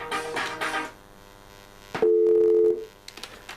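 A business phone line answers with a loud, steady tone lasting under a second after *62 is dialed, preceded by a brief burst of tones and quiet line noise, with a few faint clicks afterward.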